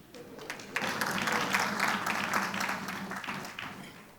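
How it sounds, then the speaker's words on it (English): A crowd claps together at a church family prayer convocation, a scattered burst of hand claps that rises quickly, holds for a few seconds, then tapers off, moderately distant in a reverberant hall. "Somebody was clapping there."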